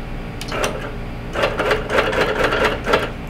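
A quilting machine stitches horizontal basting lines through a quilt using soluble thread, its needle running in steady rapid bursts with a short pause between runs, close and fairly loud.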